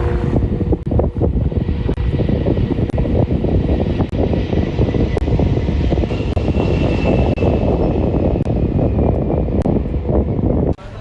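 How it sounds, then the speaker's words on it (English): A large Boeing 747-400 cargo plane arriving at Bandaranaike International Airport, its jet engines roaring loudly and steadily throughout with wind buffeting the microphone. "A large Boeing 747-400 cargo plane carrying a consignment of aid valued at 400 million rupees and donated by the People's Republic of China for the disaster-affected people in the country arrived"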